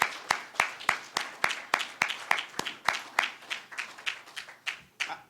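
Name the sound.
audience applause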